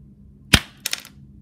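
A homemade crossbow fired through a bookmark: one sharp snapping crack, then a brief double rattle as the bolt strikes, in a quiet room with no talking.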